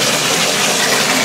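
Water gushes loudly and steadily from a tap into a bathtub, a close, dense, unbroken rush that fills the short moment with no talking.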